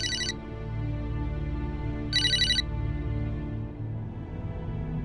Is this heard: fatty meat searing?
no